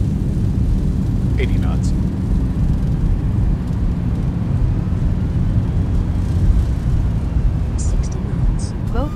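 Simulated Boeing 737-800 (Zibo 738X) in X-Plane 12 roaring under thrust reversers on landing, a loud steady low rumble throughout, with a calm voice speaking briefly over it.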